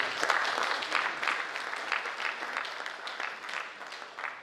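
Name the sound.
audience clapping at a media briefing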